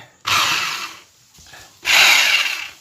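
A Bosch hammer drill with a bit fitted spins freely at normal speed in two loud, close bursts of high whining motor noise, separated by a short pause.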